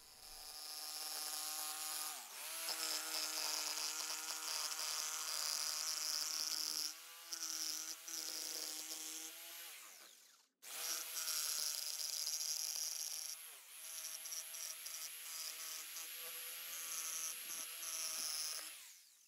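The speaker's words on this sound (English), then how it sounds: "The outlines of the window templates are transferred to the acrylic and cut out with a jigsaw." A jigsaw cuts acrylic boat window templates with a loud, high buzzing whine that wavers with the cut, briefly stops at about ten seconds, then resumes alone.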